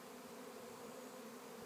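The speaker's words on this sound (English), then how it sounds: "It is a swarm of bees." A steady, dense drone of a swarm of bees buzzing together outdoors, continuous and fairly close, with no other sounds breaking through.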